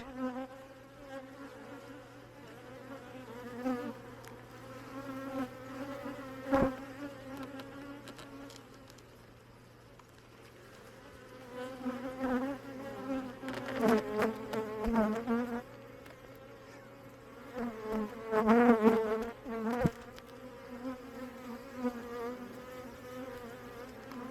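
Honeybees buzz steadily around an opened hive during an inspection, a continuous droning hum that swells louder in waves as the bees stir close by.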